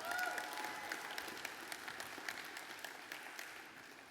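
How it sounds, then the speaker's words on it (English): Applause from an audience of partners at a Tupu Accelerator showcase for Green Waste Products NZ, a steady, fairly faint wash of clapping held at an even level throughout. "A round of applause, because there are some of those partners in the room"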